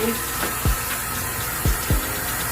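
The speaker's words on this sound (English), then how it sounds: "with warm water, and just putting the water on here" Warm water pours and splashes over a thick curly headband wig in a sink, a steady wet rush broken by a few short bursts, with no talk.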